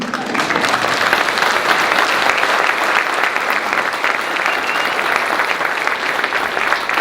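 A crowd at an honouring event for a sheriff gives long, steady applause, many hands clapping in a dense, continuous roar that holds evenly from start to finish.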